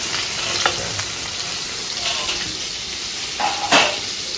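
Onions frying in a pan for a Bengali prawn curry: a continuous close sizzle, broken by a few stirring scrapes, with a sharper clatter near the end and no talking.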